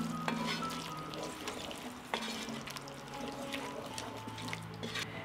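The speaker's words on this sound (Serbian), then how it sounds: "Sve ću to promešati." Vegetables frying in a pan with salt, black pepper and ground Hungarian red paprika being stirred, a soft steady sizzle with scraping spoon strokes and light clinks, fairly quiet and close with no talking.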